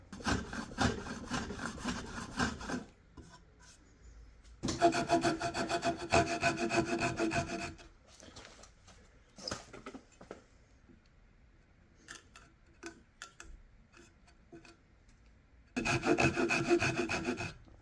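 A hand saw cuts wood for a guitar build in three bursts of rasping back-and-forth strokes, close and fairly loud, with quiet gaps holding scattered small knocks and clicks.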